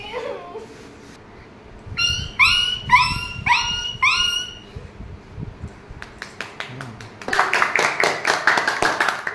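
At a children's language summer camp, a child vocally imitates a dog, giving a quick run of sharp, close yaps. Brisk clapping from the group follows.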